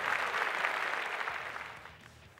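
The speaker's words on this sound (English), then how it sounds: "let's give both fighters a round of applause" A crowd at a martial arts fight applauds both fighters, dense clapping that starts loud and gradually fades out over a couple of seconds.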